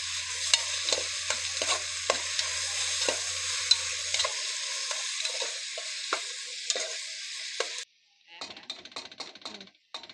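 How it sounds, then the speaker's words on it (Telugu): Onions and tomato pieces fry in a pan with a steady, close sizzle, and repeated scraping strokes of stirring break through it. Near the end the frying drops away, leaving a few light clatters. "ఇందులోకే కోసి పెట్టుకున్న టమాటా ముక్కలు అయితే వేసుకుందాం. వేసుకున్నాక ఒకసారి మొత్తం కలిపేసుకుందాం."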